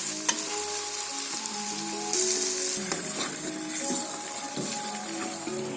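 Masala sizzles and fries steadily in a pan on a medium flame for sarson ka saag, with a continuous crackling hiss and brief stirring scrapes and clinks.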